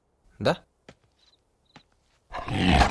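A tiger roar, or an imitation of one, bursts out loud and close near the end as a broad, rough growl, after scattered short sounds and a brief spoken word in an otherwise quiet room.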